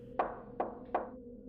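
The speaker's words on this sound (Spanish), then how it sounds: "llamaron a la puerta. El clásico tipo de golpe toc toc toc" Three sharp, evenly spaced knocks on a door, close and clear against a quiet background.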